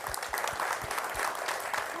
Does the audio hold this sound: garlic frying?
no